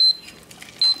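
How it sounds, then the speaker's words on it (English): A kitchen tea timer beeps in short, high, piercing electronic pulses, one near the start and then several more closely spaced, loud and close. "tea timer for my tea."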